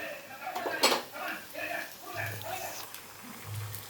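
Egg is poured into a pan and stirred with a utensil, giving light metallic clinks and scraping against the pan under a voice speaking Tamil.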